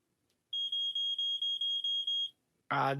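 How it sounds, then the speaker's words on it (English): A smoke alarm beeps in a rapid series of about eight high, piercing tones, followed by a brief burst of speech. "Smoke alarm."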